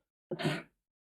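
A person gives one short, sharp sneeze, close and isolated, with silence before and after.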